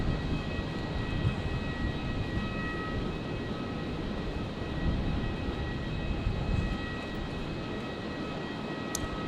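An Emirates Boeing 777-300ER on landing approach at Brisbane at night gives a constant, dense engine roar with a faint whine, steady and unbroken.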